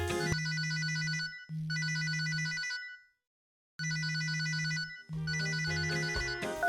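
A telephone rings in two bursts of two electronic trills each, separated by a clean silent gap, loud and close with a bright, harmonic tone and no voices over it.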